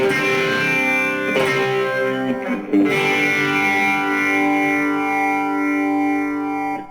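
Electric guitar chords ring out heavily processed with distortion and chorus, sustained and loud, with a brief break before the chord returns and rings on.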